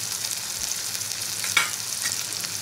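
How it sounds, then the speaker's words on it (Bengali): Chopped onion hitting hot oil in a pan, a steady broadband sizzle and crackle with one brief louder spatter, close and alone with no talk. "এই তেলের মধ্যে পেঁয়াজ কুচি দেবো"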